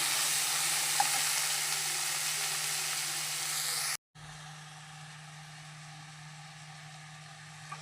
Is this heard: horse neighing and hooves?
no